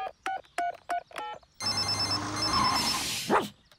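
Cartoon telephone from Peppa Pig rings in several short repeated electronic trills, then a different busier tone with a brief bark-like sound follows; no speech.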